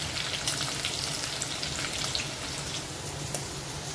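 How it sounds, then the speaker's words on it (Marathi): Garlic, ginger and green chillies fry in hot oil, a continuous, even crackling sizzle with scattered sharp pops, heard up close and alone. "थोडासा तेल आपलं तापलं आहे त्यात आपण लसूण आणि आलं टाकूया आणि हिरवी मिरची टाकायची आहे"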